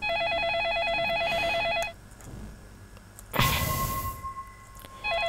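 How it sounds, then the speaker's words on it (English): A telephone rings in the video game Facade, a pulsing electronic trill repeating for about two seconds, then a pause, a sharp clattering knock, and the ringing starts again at the end. "Oh, the phone is ringing."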